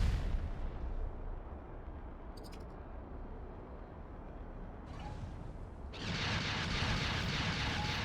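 Starship guns fire in an X4 Star Wars mod space battle, a steady roar of weapon fire and engine rumble that swells louder and denser over the last couple of seconds, with brief sharp blips near the start.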